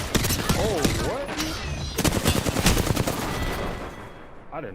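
Rapid automatic gunfire from a teammate in Apex Legends rattles in dense bursts, with a brief pause between them. Voices mix in over the shooting.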